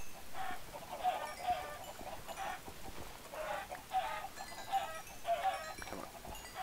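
A chicken in a video game clucks in short, repeated bursts at a steady, close, moderate volume, with no other sounds alongside.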